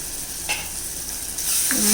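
A tomato and curd curry sizzles in a pan while being stirred, a close, steady frying hiss that grows louder and fuller toward the end, with a few scraping stirs.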